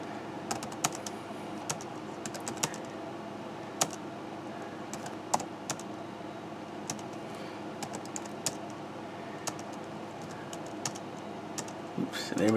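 Typing on a computer keyboard that acts up, with sharp irregular key clicks scattered across a steady background hum, close and clear, with no talk over it.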